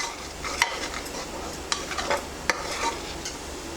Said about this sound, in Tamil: இது நல்லா கொதிக்கிறதா, இந்த சைடெல்லாம் நல்லா 2 கொதி வந்ததும்